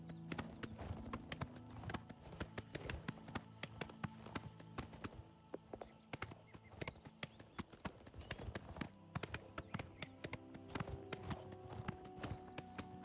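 Horse hooves clip-clop steadily in the game Oblivion Remastered, a brisk repeating gait of sharp hoof strikes over a quiet bed of sustained game music, fairly faint overall.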